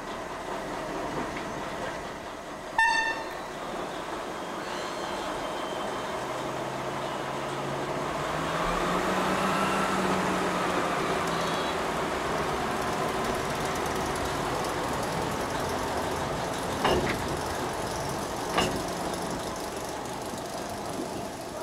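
A small 1963 Orenstein & Koppel shunting locomotive of the DB class 332, now with Bayernbahn, rumbles past with a steady engine drone and wheel noise, a few sharp clanks and squeals punctuating the run.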